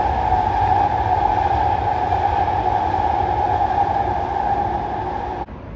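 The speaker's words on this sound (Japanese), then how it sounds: "阪急電車が走っていったな。" A Hankyu electric train rolls past close by, a steady loud rumble with a droning hum that holds throughout and drops away abruptly near the end.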